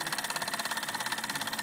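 A Wilesco vintage toy steam engine from the mid-1950s to early 1960s, fired by sterno, runs steadily with a fast, even mechanical chuff and whirr, close and continuous without any voices.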